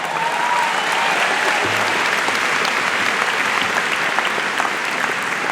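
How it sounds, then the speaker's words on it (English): A large audience at a high school commencement ceremony claps loudly and continuously, a dense wash of applause with faint crowd murmur and no break in the sound. "You can applause."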